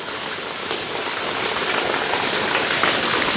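Strong rushing water roars loud and close as a dense, unbroken wash of noise that builds slightly over a few seconds.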